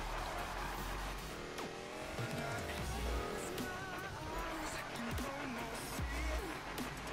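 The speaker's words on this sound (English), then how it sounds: "Beautiful drift." A customized 1969 Mustang Boss 302 drifts in Need for Speed 2015, tires squealing in long wavering tones over a steady loud engine roar, with game music in the background.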